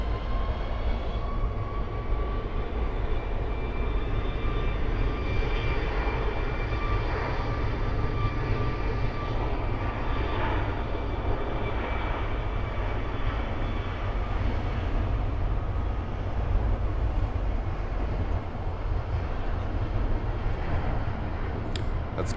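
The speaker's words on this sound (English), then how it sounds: "That's Copa Airlines 737 MAX 8 flying back to Panama City." A Copa Airlines Boeing 737 MAX 8 jet flies past with a loud, continuous engine roar that holds steady throughout, joined by a faint high whine and occasional chirping sounds.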